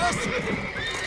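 A horse whinnies in The Witcher 3, a brief close neigh over hoof clip-clops amid game action, lasting about a second.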